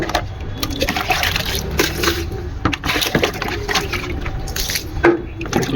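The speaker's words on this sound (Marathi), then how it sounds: "पाणी टाकतो." Water is poured out for pigeons, giving a continuous splashing, trickling fill with occasional knocks and clatter, fairly close and steady.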